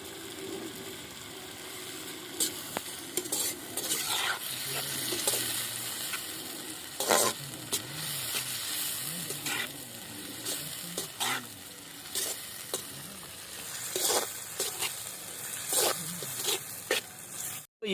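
Lamb intestines frying in a pan outdoors in a village kitchen, salt just added, with a steady close sizzle and repeated scraping clatter of a spoon stirring through the pieces.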